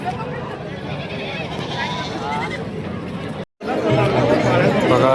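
Goats bleat amid a busy crowd at a goat and buck market in Sangola, their calls rising over steady chatter and people talking nearby.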